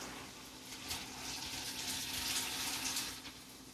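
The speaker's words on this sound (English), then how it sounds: "we're going to just bring it over and empty that water" Hot water from a pot of cooked penne pasta poured into a strainer in a home kitchen, a steady rushing gush with no talk over it, peaking in the middle.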